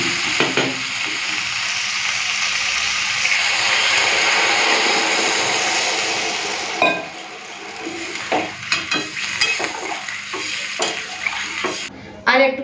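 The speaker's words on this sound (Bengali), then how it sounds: "তো ডিম, আলু, ফুলকপি ভালো করে কষে নিয়েছি" Egg, potato and cauliflower fry in a pan, a steady broad sizzle for about six seconds, then quieter stirring with scattered scrapes and clicks of a utensil against the pan.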